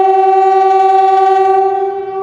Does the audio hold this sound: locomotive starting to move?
yes